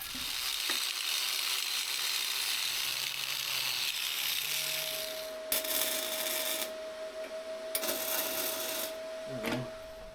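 Paint is stripped from metal brackets with a power tool before welding, a steady abrasive grinding whir with several sharp bursts of harsher scraping and a brief rising tone, close and moderately loud.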